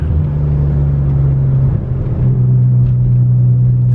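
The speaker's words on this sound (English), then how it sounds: "It's so cool cruising on a back road, following a Supra, seeing flames and everything in an R34." Steady loud engine drone from inside a Nissan Skyline R34 cruising on a back road in Germany, a constant low hum with a brief dip in revs midway, no talking.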